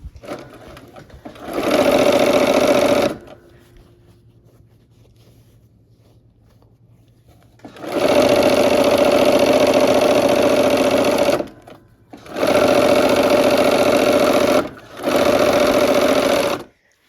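A sewing machine stitches quilt blocks in loud, steady bursts: a short run, a long pause, then a long run and two shorter ones separated by brief stops, with no talking.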